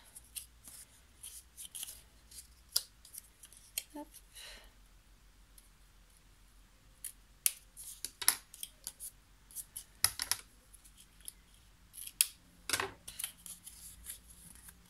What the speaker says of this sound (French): Vous coupez le surplus.